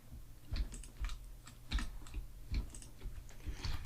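Keyboard shortcuts and mouse clicks while modeling in Blender: a sparse series of close, crisp key taps and clicks in irregular clusters, with no talk.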